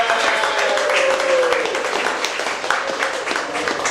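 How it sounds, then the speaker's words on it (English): Audience clapping at a poetry reading, brisk applause from a modest crowd under a voice speaking over it, with scattered individual claps standing out toward the end. "Clap it up right now for Asa Yanino, everyone."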